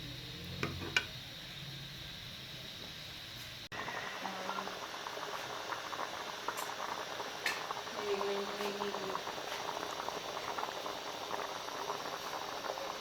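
Tomato puree simmering in a pot for a degi aloo gosht gravy, a soft continuous bubbling hiss with scattered pops and ticks, faint and close, after a brief clatter at the start.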